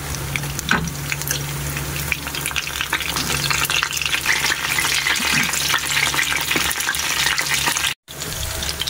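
Pork and bidbid fish lumpia deep-frying in hot oil, a steady dense sizzle and bubbling that runs throughout with a brief dropout near the end, no voices.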